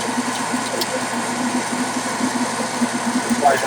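A popcorn popper roasting coffee beans gives off a steady motor whir with a low buzzing drone, close and continuous, with beans faintly rattling and tumbling in the chamber.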